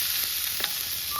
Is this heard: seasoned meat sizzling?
yes